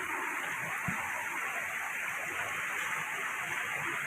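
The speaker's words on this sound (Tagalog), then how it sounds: "Ganyang kalupit ang tubig namin." Fast-flowing floodwater rushes past a farm field and livestock area as a continuous, dense roar of broadband noise, steady and fairly distant with no pauses.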